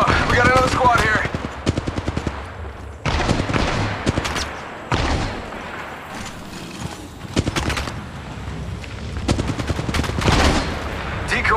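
Rapid gunfire bursts in an Apex Legends Mobile firefight, loud and repeated in clusters with short gaps, mixed with game effects and a voice talking over parts of it.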